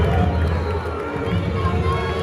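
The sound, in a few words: football crowd booing and cheering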